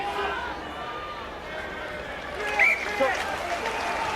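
Rugby league crowd at Batley versus Barrow applauding and cheering a well-judged kick to touch, a broad swell of clapping that peaks briefly midway, with a commentator talking over it.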